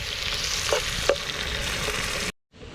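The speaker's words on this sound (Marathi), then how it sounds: "आता मित्रांनो मस्त की कांदा ना आपला फ्राय करून झाला" Chopped onion sizzles steadily in a pan over an outdoor fire for a chicken biryani, with a couple of brief stirring clinks, then the sound cuts off abruptly near the end.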